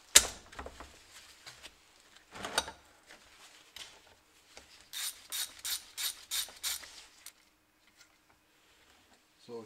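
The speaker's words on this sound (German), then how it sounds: "zwei Schrauben hier oben, eine Schraube hier an der Seite, lösen, abziehen und dann weitermachen" Ratchet loosening screws on a Mazda MX5 NA cylinder head: scattered clicks and knocks, then a close, loud run of about six rapid ratcheting bursts, followed by quiet.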